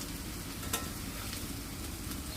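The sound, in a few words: green banana kofta sizzling while frying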